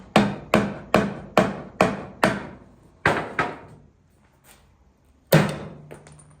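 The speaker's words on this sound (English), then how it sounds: "I'm going to take just a pry bar and a hammer and see what I can accomplish" About nine heavy hammer strikes with a pry bar on a brake drum of a 9-inch Ford rear end pulled from a creek, sharp metallic bangs in a quick steady rhythm with short pauses, ringing briefly after each hit, close by.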